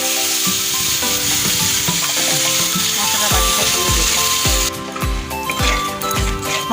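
Ground spice paste frying in a pan with green chillies, a steady close sizzle overlaid with repeated stirring scrapes and spoon knocks against the metal throughout.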